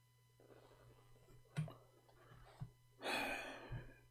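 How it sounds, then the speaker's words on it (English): A caller breathing into the microphone during a live debate call, heard as faint, close breaths and gasps with small clicks, one louder rushing exhale near the end, over a low electrical hum. "We hear you breathing."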